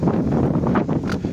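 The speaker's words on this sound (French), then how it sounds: "il y a du vent" Wind buffets an outdoor microphone in a spring garden, a steady low rumbling roar with gusty surges throughout and no voices.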